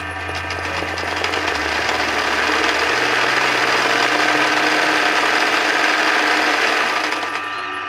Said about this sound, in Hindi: अब कैनवास लगाने के बाद ये देखिए सिलाई में करेंगे स्टिचिंग